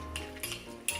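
A spoon stirs blueberry pumpkin oatmeal in a bowl, giving a few close scraping clinks against the dish in quick bursts.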